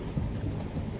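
A dense, steady roar of rain and low rumbling thunder during a storm at sea, continuous and loud with no break.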